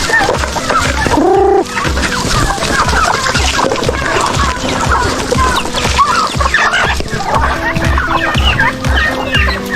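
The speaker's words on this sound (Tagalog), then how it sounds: "Mayroong manok, mayroong pabo, mayroong pato" Free-range flock of chickens, turkeys and ducks being moved from a coop, with overlapping clucks, gobbles and squawks close by, a loud rooster-like call early, continuous and busy throughout.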